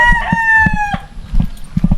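A rooster lets out one strong crow on a small Filipino chicken farm, followed by scattered clucks and short fowl calls nearby.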